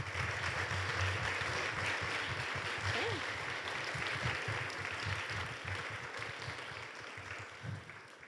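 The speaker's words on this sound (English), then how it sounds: "Can we please have a round of applause for everyone and their philanthropic efforts?" Audience applause for charity volunteers at a school assembly, steady full clapping from a large crowd in a hall, fairly distant and even, with murmured voices underneath and a slow fade near the end.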